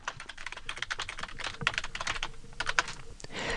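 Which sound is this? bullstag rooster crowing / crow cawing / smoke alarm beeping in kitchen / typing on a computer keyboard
typing on a computer keyboard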